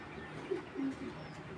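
A racing pigeon coos softly and briefly nearby, a low, gentle murmur in an otherwise quiet space.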